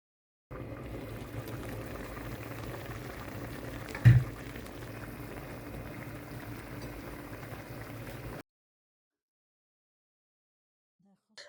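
A pot of Armenian vegan stuffed cabbage cooks in water on a gas stove, bubbling steadily and softly for several seconds with one brief louder knock midway, then falling silent.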